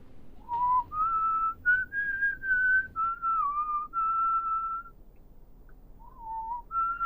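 A person whistles a slow, wavering melody of long sustained notes, clear and close, with a short pause near the end before the tune resumes.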